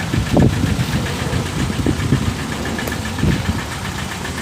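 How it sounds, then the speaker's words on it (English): Volkswagen TDI diesel engine with a stuck piston ring and heavy blow-by, idling roughly with an uneven, knocking misfire, heard from a short distance as a steady rumble with irregular stumbles. "You can tell it's just misfiring pretty bad."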